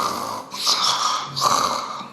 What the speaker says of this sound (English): This type of sound is called snore.